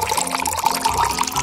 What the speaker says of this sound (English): and fill the pot with water